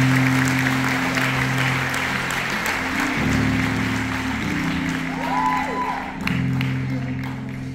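A concert audience at a show at The Magnolia applauds and cheers for the drummer, broad clapping and a few whoops layered over sustained low instrumental tones from the stage, loud and continuous.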